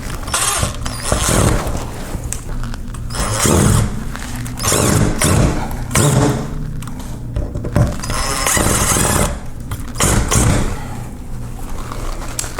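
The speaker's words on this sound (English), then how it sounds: "So we'll go ahead now and get our screws started." Screws driven with a power driver into the bottom sash of a double hung window, repeated bursts of motor whir and mechanical grinding in a loose rhythm, close and fairly loud, with no voices.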